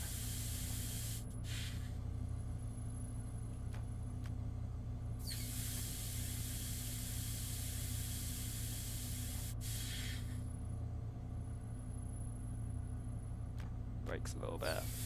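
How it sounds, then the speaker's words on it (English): Air brakes on a DB BR 294 locomotive in Train Sim World 6, bursting out in several loud hisses of released air over a constant engine rumble. "Yes, this thing has very loud air brakes."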